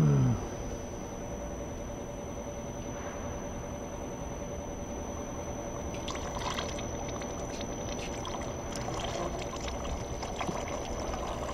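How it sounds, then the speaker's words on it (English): Test fluid flows from a rubber spraying machine's gun, its mixer removed, into a waste pail as a steady close hiss and pour that swells slightly partway through, with no talking. "we're going to pull the trigger and the dispense into a waste pail"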